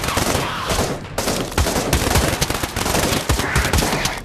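Rapid gunfire from the Pavlov VR shooter game, loud bursts of automatic shots with single cracks mixed in, continuous across the whole stretch.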